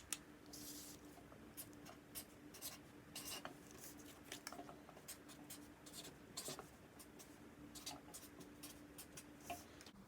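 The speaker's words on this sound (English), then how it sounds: "label the paper H2O and label the other side H2O plus salt" A pen scratches out a label on paper for a potato osmosis experiment, faint and close, with soft irregular strokes and no talk.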